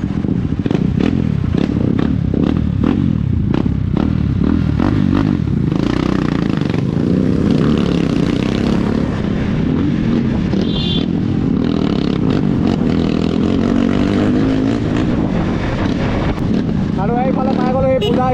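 A motorcycle engine runs and revs close by for a long stretch, a loud continuous rumble with rising and falling throttle, mixed with clatter and voices talking over it.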